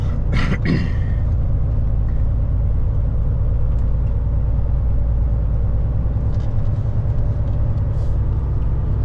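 A car cruises steadily along a new road on cruise control, giving a constant loud low rumble of engine and tyre noise throughout with no speech.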